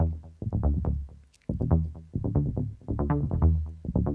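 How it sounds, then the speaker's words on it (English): Synth arpeggiator alternating a higher and a lower note in a quick, repeating pattern, clean and close, with one brief pause before the sequence resumes; no voices. "So this is what the arpeggiator sounds like."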